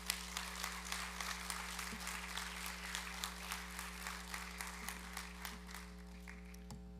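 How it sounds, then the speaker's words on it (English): Audience applause at a Phi Kappa Tau fraternity national convention, a steady crowd of clapping that holds across the clip and fades slightly at the end, with a constant low hum of the hall underneath. "So just give yourselves a round of applause for that hard work."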